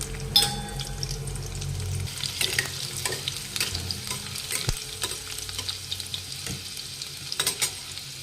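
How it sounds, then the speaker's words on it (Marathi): Cumin and garlic crackle and sizzle in hot oil in a kadai, a close steady fry broken by repeated stirring scrapes and small sharp pops, with no talking. "चला आता फोडणी देऊया।"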